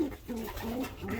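Racing pigeons from a loft race team coo in low, repeated soft bursts, several overlapping calls close by in a quiet coop.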